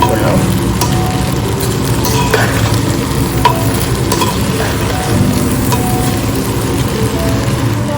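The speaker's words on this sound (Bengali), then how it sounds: "এবার চাল আর আলুটাকে দিয়ে মশলাগুলোকে একটু কষাবো।" Rice and potatoes being sautéed with spices in a pan, steady close sizzling with repeated scraping stirs and small clinks throughout, loud and with no talk.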